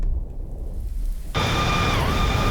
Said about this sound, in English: No rain, but there's thunder.